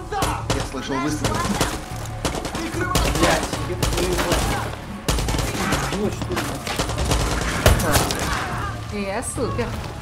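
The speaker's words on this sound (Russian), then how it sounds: "Я слышал выстрел." Rapid gunfire crackles in dense bursts throughout, mixed with thuds and shouted voices from a firefight in the video game Far Cry 6.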